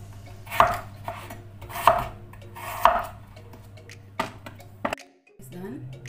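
A knife cuts fresh potato into slices for Belgian fries, giving three firm chopping strikes at a steady rhythm, followed by a few lighter taps and a brief soft sound near the end, all close by over a low steady hum.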